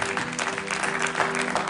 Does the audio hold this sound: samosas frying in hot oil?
no